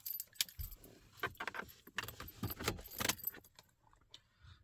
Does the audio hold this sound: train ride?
no